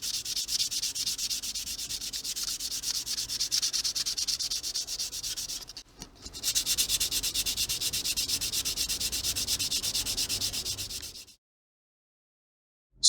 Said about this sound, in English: After drying, I'm using a 400 grit sandpaper, and that will be the last step in the preparation.